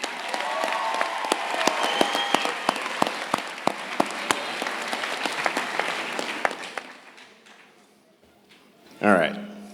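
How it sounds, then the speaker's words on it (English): Graduation ceremony audience applauding the student speakers, loud sustained clapping with distinct near claps that fades out after about seven seconds, followed by a brief voice over the room. "Let's give another round of applause for all of our student speakers."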